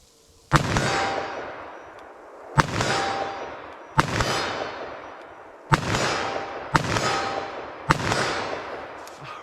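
A .357 Magnum revolver fires six loud, sharp shots outdoors, spaced one to two seconds apart, each followed by a ringing decay, with the last few coming in quicker succession.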